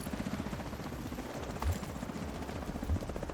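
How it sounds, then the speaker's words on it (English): A video game helicopter hovers nearby, its rotor thumping in a steady rapid pulse at moderate volume, with a couple of heavier thuds layered over the continuous chop. "I'm gonna deal with the chopper first"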